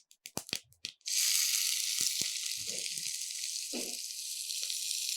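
Finely chopped onion hits a hot pan for okra rice and breaks into a loud, steady sizzle that keeps going. A few knocks and scrapes of the utensil come first, and soft stirring clunks sound over the frying.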